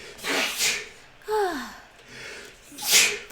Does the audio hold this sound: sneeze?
yes